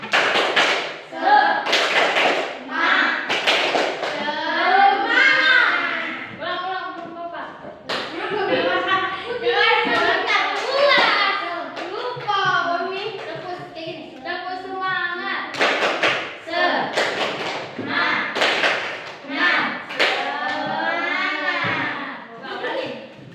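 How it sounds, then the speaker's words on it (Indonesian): Classroom group doing a rhythmic spirit clap as an ice breaker, sharp patterned bursts of clapping alternating with children chanting and speaking in between. "Tepuk semangat."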